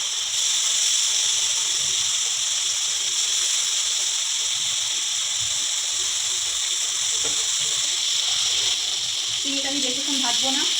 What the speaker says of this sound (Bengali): তেলটা গরম হয়ে গেছে, এবার আমি চিংড়ির তেলের উপর দিয়ে দেব।